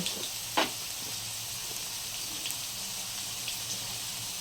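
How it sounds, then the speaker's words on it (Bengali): Potatoes frying lightly in hot oil for a banana-flower curry give a steady, close sizzling hiss throughout, with one brief utensil clink early on and no talking. "এবার আলুগুলোকে একটু সামান্য ভেজে নেব।"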